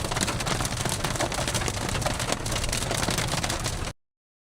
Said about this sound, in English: I would say it is about quarter size hail.